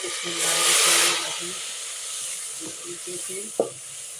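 Loud hissing sizzle bursts up as tomatoes hit hot oil with frying ginger-garlic masala, then settles into steady frying with faint stirring clinks.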